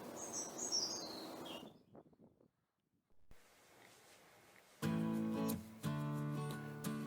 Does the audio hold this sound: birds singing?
yes